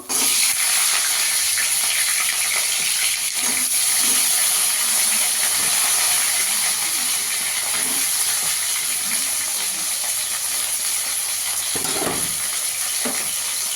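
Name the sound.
frying cauliflower in hot oil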